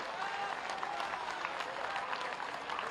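A large crowd at a public event in Gorakhpur claps loudly and continuously for the speaker, a dense even wash of applause with no breaks.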